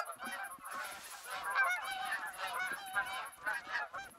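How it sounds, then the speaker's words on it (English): Geese honking in the hunting video game The Hunter Call of the Wild, a flock giving repeated overlapping nasal honks at moderate distance, steady and alone. "And I think I actually hear some more coming from somewhere else."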